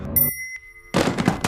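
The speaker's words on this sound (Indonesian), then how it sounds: "Marcus seketika menjadi kaku saat Gladys membunyikan sebuah bel" A small bell rung once in a film scene, a short bright ding that rings out faintly between louder stretches of film sound.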